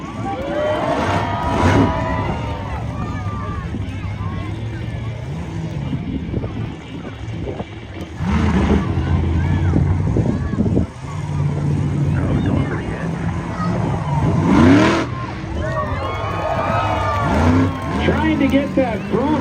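Monster truck engine revving at a 2X Monster Trucks show in Ocala, Florida, rising and falling in loud surges during a ramp wheelie, with an arena announcer talking over it throughout.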